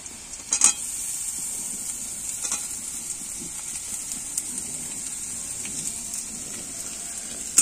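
Onions dropped into a hot frying pan with browned potatoes give a sharp hiss early on, then a steady sizzle with scattered pops and faint stirring scrapes, close and moderately loud.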